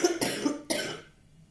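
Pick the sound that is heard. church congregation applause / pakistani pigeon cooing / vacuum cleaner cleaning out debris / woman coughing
woman coughing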